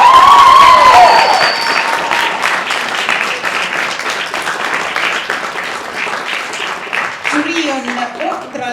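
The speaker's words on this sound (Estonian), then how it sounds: "teeme temale ka nüüd suure aplausi" A large round of audience applause for a jury member at an Estonian event, loud and sustained, with a tonal sweep at the start and a voice near the end.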